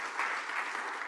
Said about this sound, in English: Another round of applause for the speaker.